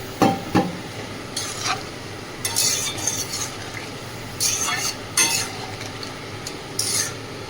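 Prawns cook in a pan while a utensil stirs and scrapes in intermittent bursts over a soft background sizzle, with several brief clattering strokes spaced through the clip.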